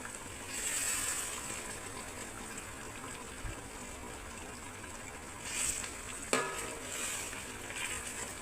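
Tuna pickle with chilli boiling and being stirred in a pan, giving a steady low sizzling, bubbling hiss with occasional scraping knocks of the spoon, moderately quiet with no talk.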